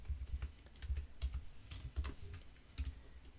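Someone typing code on a computer keyboard, with quiet, irregular key clicks and firmer taps in quick bursts, close and soft with no speech.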